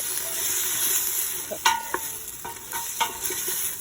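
Garlic sautéing in oil for Filipino kare kare: a steady broadband sizzle with several sharp spatula scrapes and clinks against the pan, close and fairly loud, with no voices.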